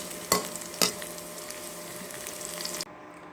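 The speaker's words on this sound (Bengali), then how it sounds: "আমার পেঁয়াজ রসুন আর কাঁচামরিচ ভাজা হয়ে গিয়েছে" Onion, garlic and green chili fry in oil with a steady, moderately quiet sizzle, punctuated by two sharp utensil taps early on, then cutting abruptly to near silence at the end.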